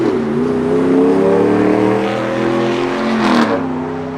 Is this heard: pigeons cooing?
no